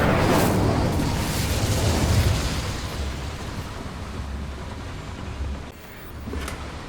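Hogwarts Legacy's Incendio fire spell goes off inside a goblin mine, a loud booming burst with a rumbling tail that dies down over several seconds and flares briefly again near the end.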